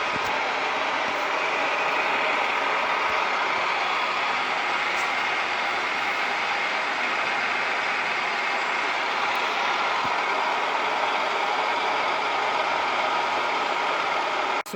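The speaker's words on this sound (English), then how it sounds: "So now we are going to start the machine." A milling machine set up for spur gear cutting runs steadily with a dense, continuous mechanical whir and rattle of gears, loud and unbroken throughout with no talk.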